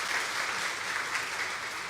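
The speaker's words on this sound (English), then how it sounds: "Shall we give a round of applause to our researchers?" An audience at a company presentation breaks into a full, even round of applause, many hands clapping together in a dense, sustained wash with no pauses.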